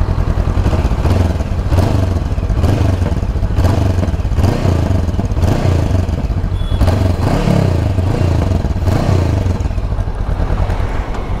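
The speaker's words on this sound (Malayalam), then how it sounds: "എക്സോസിനോട് ടിപ്പിക്കൽ ആ ഒരു ട്വിൻ സിലിണ്ടർ നിങ്ങൾ നിഞ്ച 300 അല്ലെങ്കിൽ യമഹ R3 അതിൽ കേട്ടിട്ടുണ്ടെങ്കിൽ" A Honda NX500 twin-cylinder motorcycle's exhaust is blipped repeatedly, loud close revs rising and falling in a steady rhythm over its idle, with no talking.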